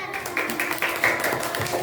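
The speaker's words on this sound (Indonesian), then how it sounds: "tepuk tangan" Schoolchildren in a classroom clap their hands together in a short, loose burst of taps and claps, close by, with some voices mixed in.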